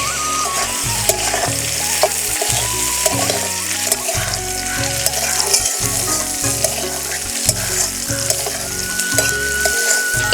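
Mixed vegetables with beans and capsicum are stir-fried for wedding-style fried rice, a loud close sizzle under rhythmic spatula scrapes and clanks against the pan roughly twice a second, without any voices.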